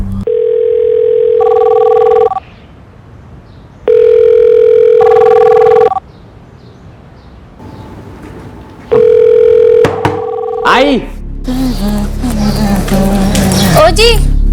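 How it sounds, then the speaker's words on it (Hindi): A telephone's electronic ringing tone sounds in three long bursts with pauses between, followed by a click and voices talking. "हाँ आपका फोन है।"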